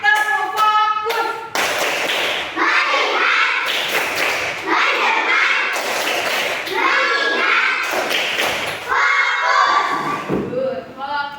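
A room full of second graders claps a longer rhythmic sequence, several loud bursts of hand claps spaced between excited shouting and chanting voices, lively and close.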